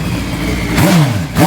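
A turbocharged Hayabusa drag bike engine revs hard at a drag strip, a loud close roar that climbs and falls in two surging pulls with no talking.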